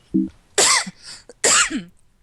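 Two harsh, forceful coughs ring out close by, separated by a short pause, with a small throaty sound just before the first.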